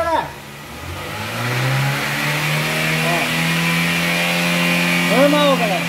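A Honda Fit 1.4 with its stock exhaust revs in place, the engine note climbing and holding steady at a moderately loud level, with brief blips near the end.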